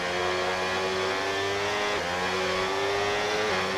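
Several F1 race cars from the F1 26 video game scream through a hairpin in a close overtake, their high-pitched engines revving continuously with shifting pitch and a brief downshift dip midway, loud and dense throughout.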